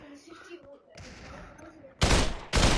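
Bursts of gunfire in the VR battle royale game Population: One, two loud close volleys after quieter game ambience, with a player's voice talking over the background.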